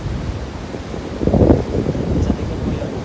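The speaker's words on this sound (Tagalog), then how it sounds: "Ayun, lalaki ng alon." Big surf at Old Bar Beach in New South Wales, a continuous wash of waves with gusting wind buffeting close by and one louder surge midway.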